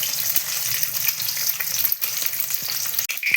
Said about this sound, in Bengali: তেল দিয়ে ডিমটা আগে ভাজবো